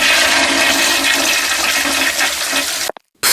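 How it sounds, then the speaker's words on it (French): Water pours steadily from a tap left running, a loud continuous hiss and splash that suddenly cuts off near the end, followed by a moment of near silence. "c'est moi qui ai laissé le robinet ouvert, comme ça c'est pas possible d'être aussi bête"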